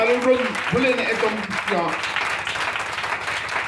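A church congregation applauds during a service; raised voices ring out over the first seconds, then a steady wash of clapping carries on to the end.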